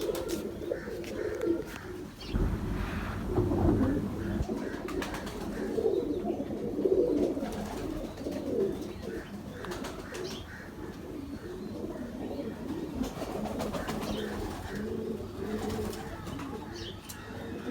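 Pigeons coo in soft, low, rolling calls, overlapping continuously over a faint background murmur, with occasional chirps.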